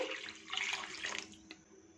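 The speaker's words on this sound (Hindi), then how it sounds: "सो इसमें 700 ml 3 बड़े कप पानी शामिल कर देंगे" Water runs from a tap or is poured into a cooking pot while mutton or beef keema is made, a short close splashing stream that tapers off near the end.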